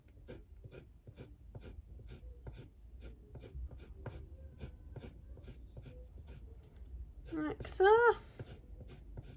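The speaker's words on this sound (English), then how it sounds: "Just going to go back in with my pencil." A pencil strokes back and forth over drawn hair on paper in an adult colouring page, giving a soft, steady scratchy rasp with regular rhythm, close up, briefly interrupted by a short spoken phrase.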